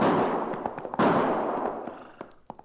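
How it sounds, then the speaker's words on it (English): Gunshot sound effects in a classic radio western drama, several sharp cracks fired in an irregular volley over a rumbling background, loud and close. "Not only did I hear those gunshots, Cherokee, but now I can see where they came"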